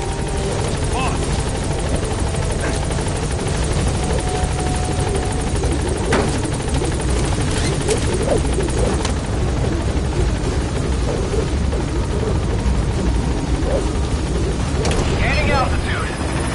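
The Pequod helicopter in the Metal Gear video game gains altitude, its rotor roar loud and constant throughout, with faint bursts of other game effects mixed in.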